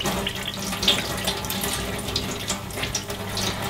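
A Dyson Micro 1.5kg vacuum brush bar is rinsed under a running tap, giving a steady close splash and hiss of water into a sink. The sound is alone, with no talking.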